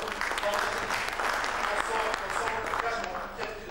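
An audience at a Moroccan e-commerce federation event applauds the director of Maroc Square, a steady, full-bodied clapping sustained throughout with a voice talking over it.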